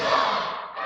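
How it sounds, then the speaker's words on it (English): A wrestling crowd at ringside roars a dense, loud chant, a continuous wash of many voices shouting together. "And the chant of break his arm being led by Buff Bagwell."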